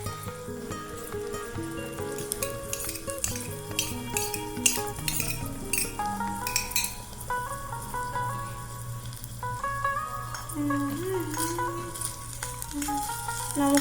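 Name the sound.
adding green chillies while cooking Maggi noodles in miniature pot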